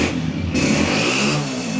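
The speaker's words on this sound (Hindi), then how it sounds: "साउंड सुने दोस्तों, Honda 125 self start special edition आपके साथ" Honda 125 Self Start Special Edition motorcycle engine idling close by, a steady low mechanical chug with a slight rise in pitch partway through.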